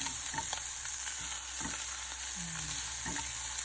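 Kangkong (water spinach) leaves sautéing in a pan for chicken soup, a steady bright sizzle with intermittent scraping stirs and clinks, fairly close, no talking.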